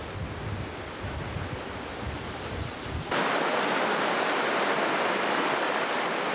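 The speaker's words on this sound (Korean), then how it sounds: "시원하게 흐르는 계곡의 물소리를 들으며" Stream water rushes steadily through a valley in Borjomi National Park, Georgia, a dense, unbroken hiss that grows noticeably louder and brighter partway through, with no voices.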